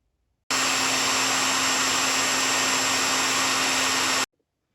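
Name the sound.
hair dryer blowing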